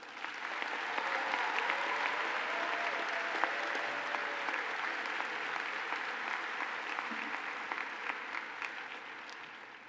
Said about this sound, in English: Let's give these new officers another round of applause